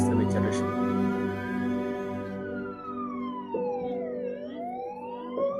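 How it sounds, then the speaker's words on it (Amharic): An ambulance siren wails close by, its pitch sweeping up and down in long slow rises and falls over a low engine hum, loud and continuous with no talk. "አምቡላንስ"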